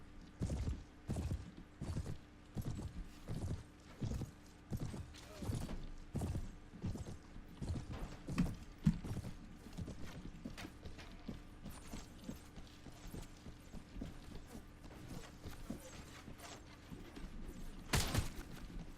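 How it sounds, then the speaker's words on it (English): Horse hooves clip-clopping in the medieval combat game Mount & Blade, a steady rhythmic series of close, crisp hoof strikes with occasional creaks and a brief whinny-like burst near the end, no talking. "My horse."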